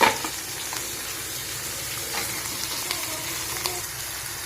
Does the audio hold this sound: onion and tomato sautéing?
yes